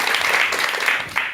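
Audience applause welcoming a psychiatrist lecturer at a talk on depression, a steady dense wash of clapping throughout, fairly close and continuous.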